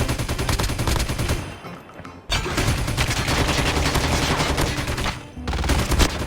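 Rapid automatic fire from an M13 rifle in Call of Duty Mobile, loud sustained bursts of shots with two short gaps where the firing stops before resuming.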